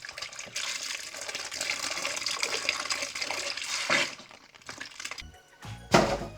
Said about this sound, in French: je mets tout le litre de lait